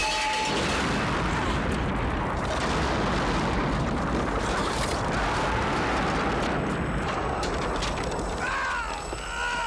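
Gas tanks shot and blowing up in a 1987 action film: a sustained, loud roaring blast and rumble with crackling debris fills the scene, fading slightly near the end.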